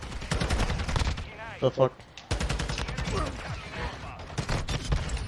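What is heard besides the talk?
gunfire in a Call of Duty hardpoint match, from a video game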